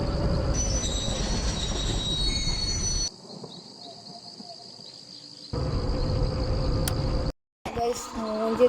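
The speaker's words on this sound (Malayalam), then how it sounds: "ഇപ്പൊ വണ്ടി ഓൺ ആയിട്ടുണ്ട്" Train engine in the Choo Choo Charles video game, running as a steady loud mechanical rumble. It drops to a quieter hum midway, returns at full strength, then cuts out briefly near the end.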